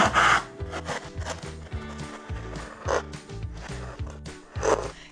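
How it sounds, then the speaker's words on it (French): A small handheld sander working on a recycled cardboard decorative letter, giving a rough, rhythmic rubbing and buzzing in short repeated strokes, close and fairly quiet, with no talk. "notre petite ponceuse nous servira à ça"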